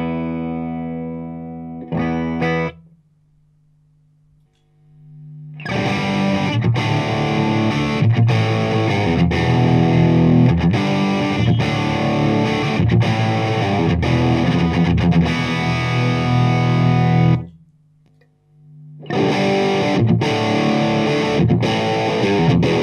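An electric guitar plays through a Plexi-style overdrive pedal, the Wampler Plexi Drive Deluxe or Tech 21 Hot Rod Plexi. A short ringing note and a pause lead into a long, loud, crunchy riff, then silence, then the riff resumes.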